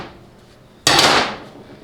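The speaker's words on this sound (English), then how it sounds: "stick it right on the end of the snap ring there, and give it a few whacks until it rotates into position" A screwdriver struck to rotate a snap ring into place during a 700R4 transmission rebuild: one sharp, close metallic whack that rings out and decays over about a second.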